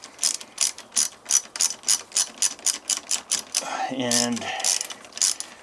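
A torque wrench ratchets in quick, even clicks while tightening bolts on BMW motorcycle risers, close and crisp, pausing for a brief spoken word before the clicking resumes.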